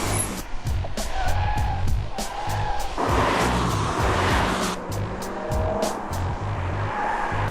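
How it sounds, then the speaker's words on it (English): A V8 BMW M3 with 414 horsepower driven hard on a race track, its engine roaring continuously with short tire squeals and gear-change dips, loud and close throughout. "the first in the world to drive the V8 414 horsepower BMW M3"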